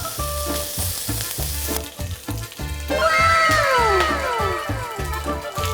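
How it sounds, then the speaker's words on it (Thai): Pork belly sears in a hot pan while cooking for a Thai black pepper braise. It makes a steady, close sizzle with a pulsing rhythm, and a high whining tone rises and falls over it partway through. "ใส่หมูสามชั้นลงไปครับ เดี๋ยวเราย่างพอให้เขามีสีเหลืองครับ"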